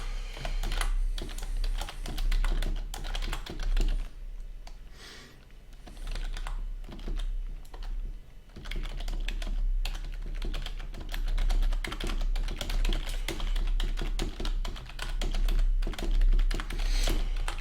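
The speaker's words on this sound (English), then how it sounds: "Sorry about the keyboard." Rapid, continuous clicking of a computer keyboard being typed on, close and fairly loud, with no talking.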